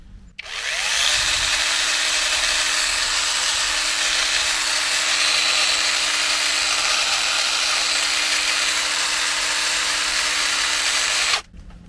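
A battery-powered DeWalt cordless mini chainsaw with a dry, unlubricated chain runs loud and steady at full speed for about ten seconds, starting and stopping abruptly, with no talking.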